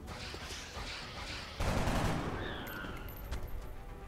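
Gunfire in the video game XCOM Enemy Unknown: a dense, rumbling volley of shots swells sharply about midway and then rolls on in a steady crackling burst, loud and with no talking.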